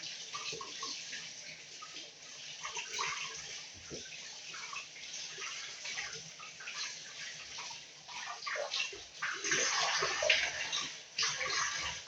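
Red amaranth leaves (lal shak) swished and rinsed in water in a kitchen, with steady splashing and sloshing at moderate level throughout, getting louder toward the end, and no talking.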